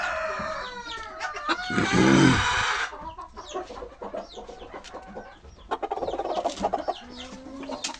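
Dwarf Cochin chickens, including white hens and a blue rooster, cluck and squawk repeatedly nearby, with the rooster's crow rising in the middle and scattered bird calls around.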